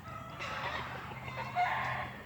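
An old rooster from a small hatch crows outdoors, a moderately loud, steady call stretched over a couple of seconds with a brief louder peak near the end.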